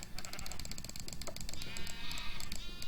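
Sheep on a Minecraft-style sheep farm in a video game bleat repeatedly and overlap, loud and close, over a busy game backdrop.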